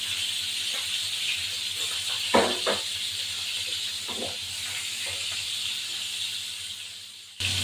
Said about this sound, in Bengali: তেলের মধ্যে ইলিশ মাছগুলোকে হালকা ভাজবো